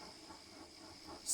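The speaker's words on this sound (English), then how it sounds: "was audible, except for the crickets and Max idling." Crickets chirp in a steady, faint high trill near a quiet town at night, with no voices and a brief louder burst at the very end.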